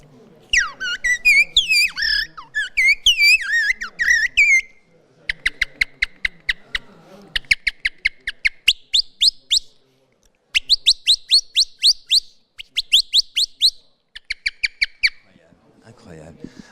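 Whistled imitation of a blackbird's song: a flowing, fluty phrase first, then bursts of rapid repeated chirpy notes in separate series with short pauses.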